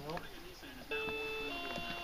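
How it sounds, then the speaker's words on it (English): An electronic doorbell chime rings at a house, with steady sustained tones over a cluttered background and people talking throughout. "Ring the doorbell."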